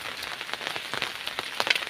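Steady rain falls in a hilly village, a dense continuous patter on surfaces with scattered louder drops close by, no voices.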